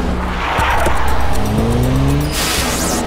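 A car speeds off with tires squealing, the rubber screech rising in pitch over a loud revving engine, then an accelerating whoosh as it pulls away.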